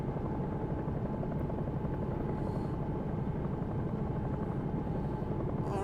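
Bell 222 helicopter rotor in the X-Plane 11 flight simulator, a steady, constant low thudding drone that holds throughout without a break, heard with no voices.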